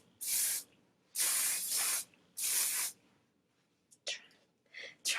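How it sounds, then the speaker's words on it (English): Garnier Fructis Volume Spray hairspray hisses out in three long, close bursts, followed by a few shorter puffs and faint breathy sounds. "I am going to spray some hairspray"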